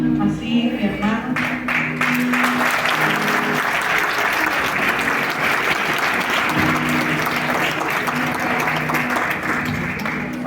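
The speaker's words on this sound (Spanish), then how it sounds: "Den un fuerte aplauso al Señor" Loud, sustained applause fills a church congregation during a missionary worship service, dense clapping steady throughout with some voices mixed in beneath it.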